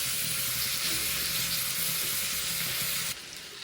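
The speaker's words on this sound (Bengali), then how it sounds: "আমি কিন্তু আলু আর চিচিঙ্গাগুলো বেশি ভাজা ভাজা করলাম না, হালকা ভেজেছি।" Potatoes and snake gourd fry lightly in a pan for a fish curry, giving a steady, even sizzling hiss that drops off abruptly near the end.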